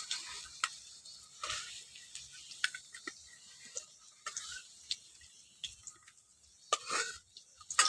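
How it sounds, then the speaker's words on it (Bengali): Potatoes frying in a pan while paneer is being cooked, with a soft, faint sizzle broken by scattered light clicks and stirring taps spread across the whole stretch. "এর মধ্যে আলুগুলো ভেজে নিচ্ছি"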